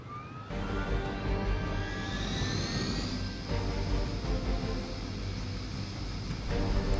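Helicopter in the video game Marvel's Midnight Suns, a steady loud rotor and engine roar with a rising turbine whine, continuous throughout with no talking.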